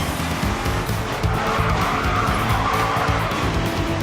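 Race car engine roars continuously in the GRID 2 racing game while tires squeal and skid through a corner, loud and sustained throughout.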